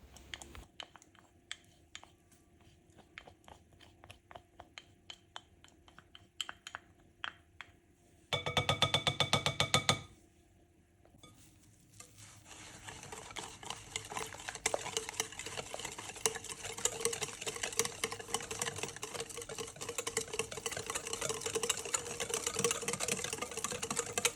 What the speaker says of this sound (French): J'ajoute 100 g de yaourt grec et je mélange à nouveau.